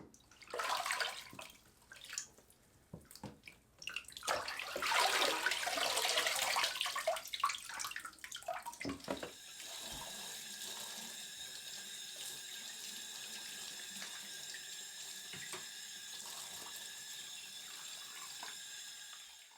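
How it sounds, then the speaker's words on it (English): Running water splashes and gurgles as a leather Coach bag is washed and rinsed in a sink, with loud sloshing and dripping at first, then a steady stream of tap water filling the basin. "Give your Coach bag a good wash both inside, outside, and in all the pockets"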